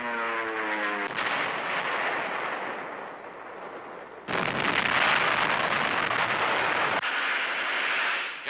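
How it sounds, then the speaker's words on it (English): Dive bombers strike in northern Burma during World War II, a few hundred yards ahead of advancing Chinese infantry. A loud, continuous roar of engines and blasts fills the scene, surging heavier partway through, with no talk. "Dive bombers pave the way, only a few hundred yards ahead of advancing infantry."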